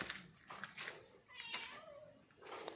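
Several plaintive meows from a mother cat, close and fairly loud, come in a run of drawn-out cries at home, with little else under them.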